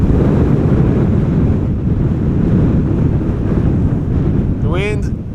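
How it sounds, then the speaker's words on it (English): Loud, continuous wind buffeting an outdoor microphone at Amsterdam Schiphol Airport, a steady roaring rumble throughout, with a brief rising whistle-like tone just before the end. "The wind looks like it is picking up a little bit."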